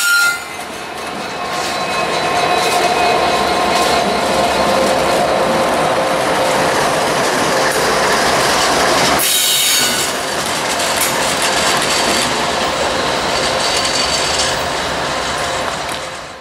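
A CSX freight train led by ES44AH and SD70MAC locomotives rolls past close by, a continuous loud roar of wheels with squeals and clickety-clack over rail joints, dipping briefly midway before resuming.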